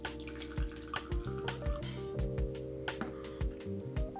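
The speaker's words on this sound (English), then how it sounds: "I'm gonna grab my mug and I'm just gonna pour right into there" French press coffee is poured slowly from the press into a mug, a close trickle broken by a series of drips and small splashes, with faint clinks and no talking.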